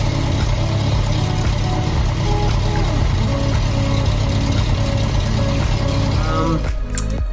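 A Formula Ford 1600 race engine built over ten years ago runs at a steady, loud, buzzing pitch that holds throughout before a sharp disturbance near the end.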